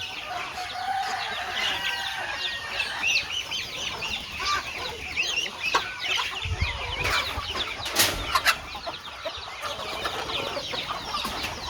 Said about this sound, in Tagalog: may manok, may pato, may gansa